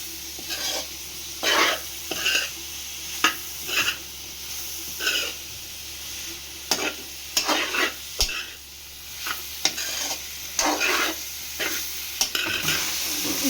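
Boiled cluster beans (gokarakaya) stirred in an oily pan: repeated close scraping strokes in an uneven rhythm over a continuous soft sizzle.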